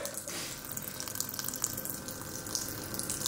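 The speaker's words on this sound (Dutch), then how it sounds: "Van een lopende kraan?" Water runs steadily from a kitchen tap while a cat drinks from the stream, a continuous close splashing hiss with no voices.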